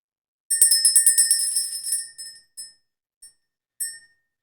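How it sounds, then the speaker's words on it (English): A small handheld bell rings in a quick run of bright, sharp strikes that gradually thin out into a few isolated dings with ringing decay, close and clear against silence. "Let's ring the bell, clear the energy"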